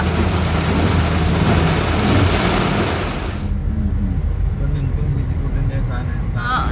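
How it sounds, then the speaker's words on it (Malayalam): Steady rain at Angamaly heard from inside a moving car, a dense continuous hiss that thins out partway through, with voices talking over it. "അങ്കമാലിയിലാണ് മഴ"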